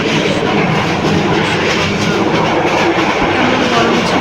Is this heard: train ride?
yes